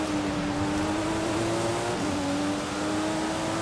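Muscle car engine in Forza Horizon 5 holding a steady, loud drone with a slight pitch rise and dip, continuous and close, with no talking.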